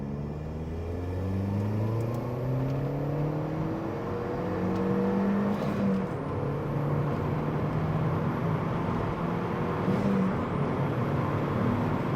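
A Skoda Octavia vRS Mk1 with a stage 1 tune making about 170-175 horsepower accelerates hard onto a highway from inside the cabin, engine note climbing steadily through several gear changes over constant road and wind noise.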